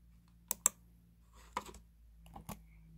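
Typing on a computer keyboard during a Gacha online game: a few separate key clicks, first a quick pair, then short bursts, close and fairly quiet over a low hum.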